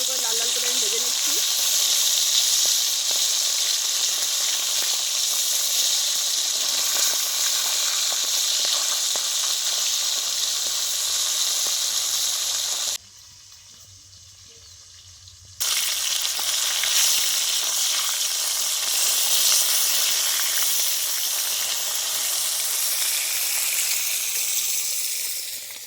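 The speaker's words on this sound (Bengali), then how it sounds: "মাছগুলো কত সুন্দর করে লাল লাল করে আমি ভেজে নিচ্ছি।" Tilapia pieces frying in hot oil in a pan over a village-style stove, a steady loud sizzle and hiss that runs almost continuously, briefly cutting out near the middle before resuming at full strength.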